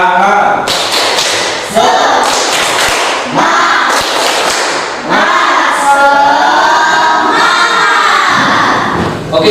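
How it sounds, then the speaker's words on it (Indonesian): A classroom of students doing rhythmic spirit clapping, loud patterned bursts of claps in groups with chanted voices mixed in, close and energetic throughout. "tepuk semangat"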